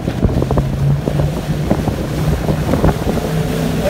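MasterCraft XT23 wakeboat running across a lake, its engine giving a loud, steady low drone with wind buffeting the microphone and water rushing alongside, no talking.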